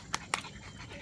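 A French bulldog puppy gives two short whimpering yelps and soft breathy panting indoors, with a brief higher whine near the end.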